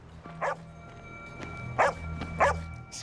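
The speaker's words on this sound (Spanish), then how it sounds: "Empezó a ladrar y parecía estar angustiada." A female dog barks three times, short sharp yelps spaced about a second apart, fairly close against a quiet background with a faint steady tone.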